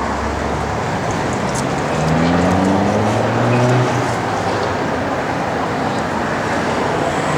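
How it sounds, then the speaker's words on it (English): The side exhausts of a 1965 Chevrolet Corvette give off a low, rumbling engine tone that swells for a few seconds in the middle, set against a constant wash of road and traffic noise. "Love the knockoffs, love the side exhausts. I love the sound of those."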